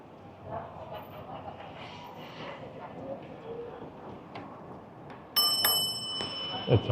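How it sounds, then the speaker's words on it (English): A bicycle bell rings out with several bright, close dings near the end of a New York City e-bike ride, cutting above a steady wash of street and traffic noise. "It's a bell?"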